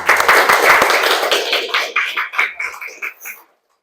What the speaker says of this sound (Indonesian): Ya, tepuk tangan untuk yang lain.